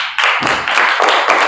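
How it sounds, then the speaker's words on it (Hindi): An audience applauds a winning team at a primary-school general knowledge quiz, a loud close burst of clapping in quick uneven waves lasting a second and a half. "तो खड़े हो जाए, इनके लिए ताली बजा दीजिए"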